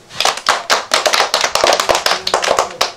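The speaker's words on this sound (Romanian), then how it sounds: "Aplauze!" Applause for a girl's ninth birthday at a family party, many hands clapping in a fast, uneven rhythm close by for about three seconds, with no voices over it.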